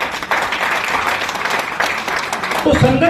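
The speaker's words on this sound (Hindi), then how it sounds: "एक बार तालियां मार लें।" An audience at a hotel talk claps together in a short, busy burst, with a voice speaking over the applause.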